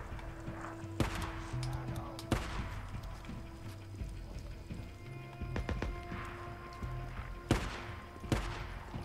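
Pistol shots in the video game Days Gone, a handful of sharp cracks spaced irregularly over ongoing game ambience with other effects.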